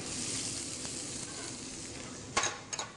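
Onions hitting hot olive oil in a non-stick pan give a steady, bright sizzle that holds throughout, with a couple of short utensil clinks near the end.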